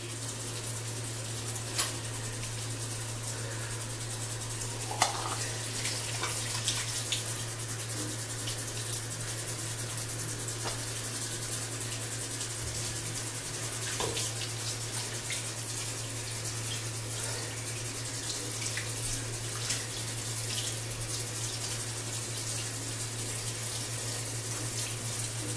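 Water runs steadily from a tap throughout during hair washing, a continuous close broadband rush with a few small clicks and splashes and no voices.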